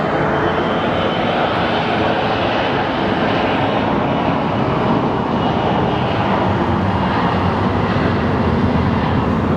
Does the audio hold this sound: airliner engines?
yes